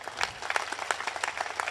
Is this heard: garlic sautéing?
no